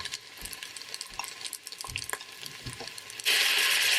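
Onions, ginger, red pepper and minced garlic cook in a pan. A few soft scattered stirring clicks are followed by a sudden, steady sizzle that rises sharply partway through.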